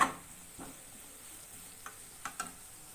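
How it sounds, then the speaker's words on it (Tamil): Onions, green chillies and curry leaves sauté in a pan with a faint, low sizzle, punctuated by a handful of light spatula taps and scrapes, close and quiet with no talk. "ஒரு நல்ல ஒரு ப்ரௌன், லைட் ப்ரௌன் கலர் ஆகிற வரைக்கும் நம்ம வதக்கிக்கலாம்"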